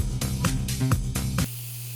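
Ninety-ten ground pork sizzling and sautéing in a hot pan, a steady loud frying hiss broken by a few crackling bursts of stirring, then a sudden drop to a quiet low hum near the end.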